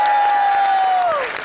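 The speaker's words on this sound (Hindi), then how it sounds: "ऑडियंस जोरदार तालियां हो जाए यार इनके लिए" Studio audience applause and cheering on a live TV comedy show, a short loud burst with a sustained whistle-like tone gliding down at the end.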